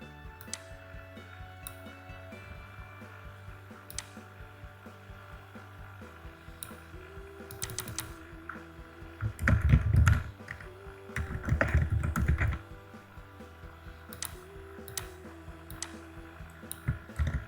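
Computer keyboard typing, soft and steady keystroke clicks running throughout at a quiet level, with a couple of louder bursts of activity partway through and no voices.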